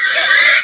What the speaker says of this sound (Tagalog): Magkakatay tayo ng isang baboy yung pang birthday niya.